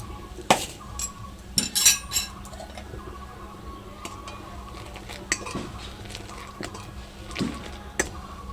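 A metal spoon clinks against a cup or pan while sugar goes into chocolate chai, a few bright chinks clustered near the start, then quieter stirring and scraping close by.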